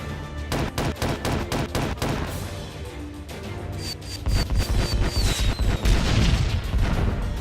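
Heavy gunfire in the video game Groundpound: rapid, loud bursts of shots stacking on top of each other, and a deeper, denser barrage of booming impacts swells toward the end.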